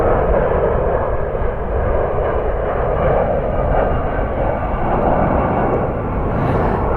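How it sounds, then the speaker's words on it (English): Boeing 757-200 airliner arriving from Lisbon at Washington Dulles, its engines giving a loud, steady jet roar that holds without a break, close by. "757-200 inbound from Lisbon."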